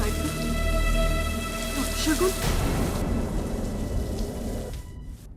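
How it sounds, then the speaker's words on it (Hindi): Steady unseasonal rain falls with a low rumble of thunder underneath. It starts under a sustained tonal musical backdrop, then continues alone after the music cuts off, and a voice speaks briefly. "बेमौसम बारिश, चैत के महीने में तो बारिश नहीं होती।"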